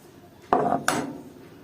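Two quick metallic clinks of a spoon against a bowl as spoonfuls of cocoa powder go into beaten eggs and banana, close and crisp, a few tenths of a second apart with no talking.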